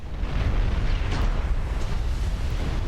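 Continuous rumbling barrage of naval gunfire and shell explosions aimed at an enemy lead battleship in a World War II naval video game, a dense, loud low roar with a few sharper bursts, no distinct single blasts.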